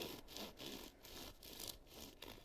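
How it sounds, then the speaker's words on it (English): Bread being sawed in Final Fantasy XIV, a quiet rhythmic back-and-forth rasp of about five strokes, each a short scratchy burst with brief gaps between. "That sounds like she's sawing something."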